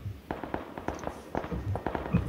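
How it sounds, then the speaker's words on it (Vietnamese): Gunfire crackles in PUBG in a fast run of sharp shots at moderate distance. The bursts are uneven, with small gaps between them, and no voices are heard. "Tiếng súng ghê vậy."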